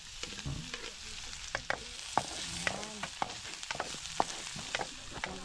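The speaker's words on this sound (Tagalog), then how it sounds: "gisahin na natin itong bawang" Garlic sautés in a pan with a steady sizzle while a utensil stirs and scrapes in quick irregular taps, close and moderately quiet, with no talking.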